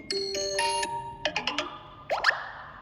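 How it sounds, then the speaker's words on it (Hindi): Vivo S15e notification ringtone previews play from the phone one after another, bright electronic chimes and short bell-like tones, then a rising boing-like alert, clear and close with no talking. "फ़ोन में नोटिफिकेशन रिंगटोन। तो आप यहाँ से रिंगटोन चेंज करेंगे।"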